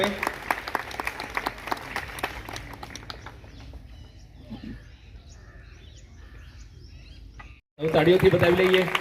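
Audience clapping at a World Wetlands Day event in Kheda, a dense patter of claps from about the first two seconds that thins into faint crowd murmur, with a loud burst of voices near the end.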